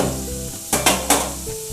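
Potatoes fry in a pan over a medium flame, a steady sizzle punctuated by a few sharp stirring scrapes, with a faint tonal hum running underneath.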